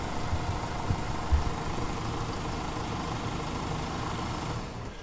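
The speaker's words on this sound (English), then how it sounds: "But Roddy, will you crank it here? We can measure the rise time" A 2008 Jeep Cherokee with a large fuel leak fault and a throttle actuator control fault runs at a steady idle, a constant, even engine drone that holds throughout and fades slightly at the end.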